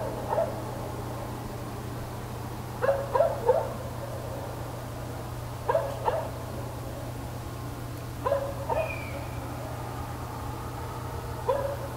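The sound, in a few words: distant dogs barking at night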